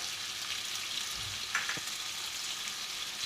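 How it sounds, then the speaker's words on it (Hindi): Tomatoes and onions frying with spices such as red chilli, salt, coriander and turmeric in a pan for an egg curry, giving a steady, close hiss of sizzling with a faint stir midway and no talking. "टमाटरों को हम प्याज में इस वक्त तक फ्राई करेंगे"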